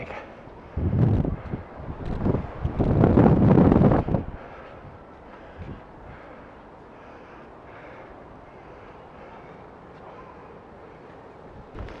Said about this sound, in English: Oh, windy and rainy.